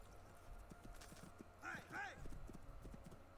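Horse hooves clip-clop at a steady trotting rhythm in Assassin's Creed II, close and fairly loud, with a brief whinny midway through.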